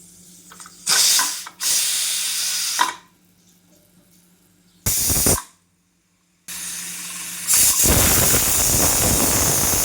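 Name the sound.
pressure cooker whistle with tindora curry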